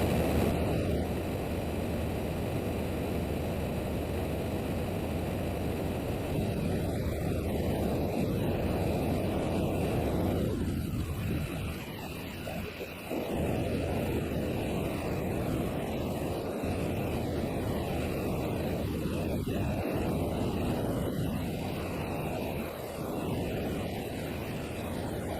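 A small plane's engine drones loud and steady from inside the cockpit during a steep climb, a constant broadband roar with a brief dip partway through.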